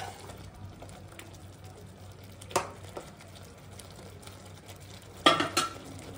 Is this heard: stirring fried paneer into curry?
yes